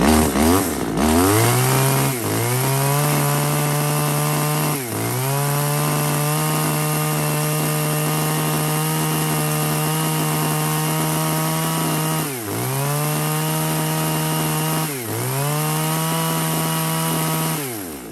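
A Makita top-handle chainsaw of 30.1 cc, weighing 3.2 kg, runs loud and close with a steady buzzing idle. Several quick throttle blips rise and fall in pitch, and no one talks.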